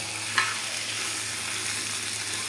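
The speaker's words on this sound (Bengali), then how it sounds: "মাংসটা আমি সুন্দর করে কষিয়ে নেব" Meat stir-fried in oil gives a steady, even sizzle throughout, with one brief sharp scrape or clatter near the start, no voices.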